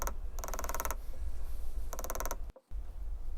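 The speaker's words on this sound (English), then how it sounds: "Just going to start with that outside edge, go around that and put a bevel all the way around the outside edge and define that border." A metal leather beveler is tapped along the outside edge of a scrap leather hair barrette, giving two bursts of rapid, even, close tapping with a quieter gap between them and no talk.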